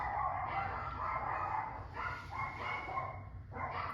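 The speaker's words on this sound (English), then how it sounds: "Cue the dogs." Several dogs bark and yip somewhere in the distance, faint and muffled, in uneven bursts over a low background rumble.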